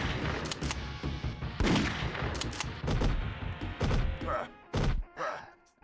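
Shotgun blasts in the video game The Crow: City of Angels, a series of loud booming shots spaced irregularly amid game noise and thuds.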